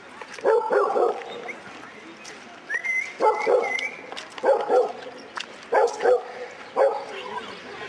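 A dog barks in about six sharp, evenly spaced bursts with whimpering yips between them, fairly close and loud against a quiet outdoor background.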